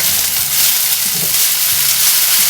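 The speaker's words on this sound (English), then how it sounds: "And just stir it up." Seasoned ground beef for a Puerto Rican plantain lasagna sizzles loudly and steadily in a hot pan, with soft scrapes as it is stirred.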